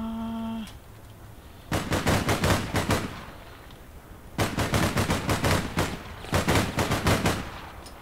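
Automatic gunfire from APB Reloaded, a shooter game, comes in two rapid, loud bursts of evenly spaced shots with a short quiet gap between them.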